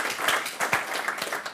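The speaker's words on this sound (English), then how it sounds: "let's clap them as well" A church congregation at a Sunday gathering applauds, with a dense burst of many hands clapping in an irregular patter at steady volume, heard alone.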